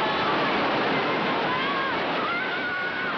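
Floodwater from the 2004 Asian tsunami rushes through streets carrying vehicles and debris, a loud, continuous roaring surge of churning water with no pauses.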